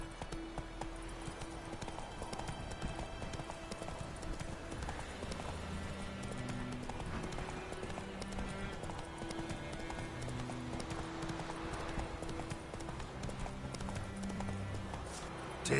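Roach, a horse in the video game The Witcher 3, trotting with rhythmic hoof clip-clops over a steady background of game music and ambience, moderately faint throughout.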